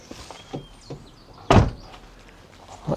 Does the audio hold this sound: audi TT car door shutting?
yes